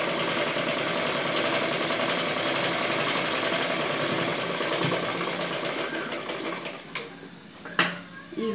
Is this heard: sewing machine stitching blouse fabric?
yes